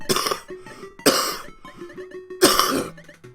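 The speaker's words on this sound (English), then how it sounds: "Excuse the cough." One person coughs three times, close and loud, each a harsh burst with short quiet gaps and light throat noise between them.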